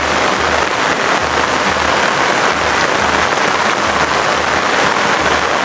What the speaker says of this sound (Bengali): আর বৃষ্টি হচ্ছে, প্রচণ্ড বৃষ্টি হচ্ছে দেখুন।